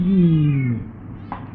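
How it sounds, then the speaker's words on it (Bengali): A cat gives a single loud, close meow, a drawn-out call that slides downward before cutting off, followed by a brief faint sound in a quiet room. "কই বিলাই ডাকতেছে"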